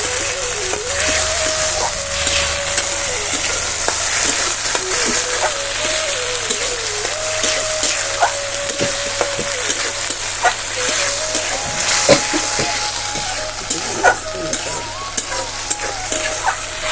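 Tomato paste fries for chitol fish curry with white mustard, a continuous close sizzle over which a spoon scrapes and stirs the pan in repeated strokes, with no talk.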